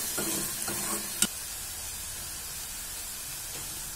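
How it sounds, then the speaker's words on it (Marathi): Potatoes fry in a pan for Maharashtrian kanda batata pohe, giving a faint, steady sizzle and hiss broken by a few soft stirring scrapes and one sharp clink near the middle. "आणि आपल्याला एवढेच असे भाजलेले बटाटे हवे आहेत।"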